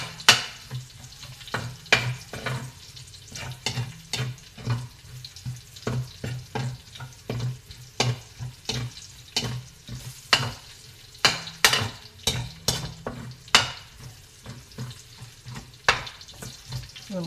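Garlic frying in a pan for homemade fried rice, a low sizzle under frequent sharp clatters and scrapes of a utensil stirring against the pan at an uneven pace.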